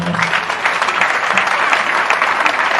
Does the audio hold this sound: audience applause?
yes